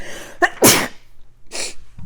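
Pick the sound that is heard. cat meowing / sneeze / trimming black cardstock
sneeze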